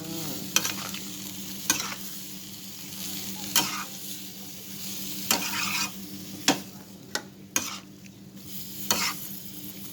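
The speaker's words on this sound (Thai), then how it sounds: "คนค่ะคน" A spoon stirs banana stem curry with chicken in a hot pan, with steady sizzling and frying under repeated sharp scrapes and knocks against the pan at uneven intervals, and no talking.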